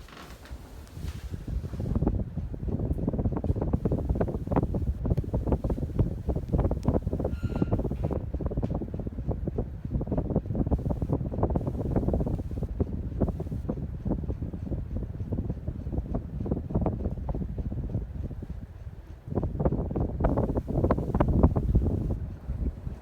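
A Minka Aire Mesa 42-inch ceiling fan running, giving a steady, fairly loud airy whoosh with a fluttering texture that dips briefly near the end before picking up again.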